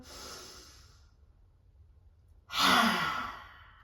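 A forceful lion's breath exhalation from simhasana pranayama yoga, tongue out and face scrunched: a loud rushing breathy whoosh after a quieter earlier breath and a pause, no talking.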